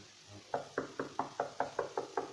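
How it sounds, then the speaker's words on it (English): Banging knock at a door: nine evenly spaced, firm knocks in a quick steady rhythm, fairly close and alone against quiet room tone. "The banging at the door woke me up."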